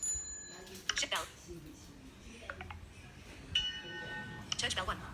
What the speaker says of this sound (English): Ship bell.